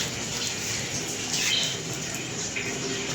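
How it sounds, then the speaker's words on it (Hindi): Water pouring from an opened household tap, a steady splashing hiss that swells slightly midway, close and fairly loud with no voices. "मैं टूटी खोल देती हूँ, थोड़ा सा पानी है"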